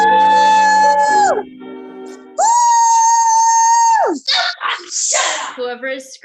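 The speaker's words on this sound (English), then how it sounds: "Whoever is screaming," An audience member screaming during a poetry slam event, loud sustained high-pitched vocal cries in two long bursts, followed by shorter shouts and cheers, close and dominant.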